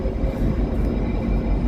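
Chicago Metro train running at a station platform, a steady loud low rumble and roar with no distinct clicks or horn, filling the whole stretch without pause.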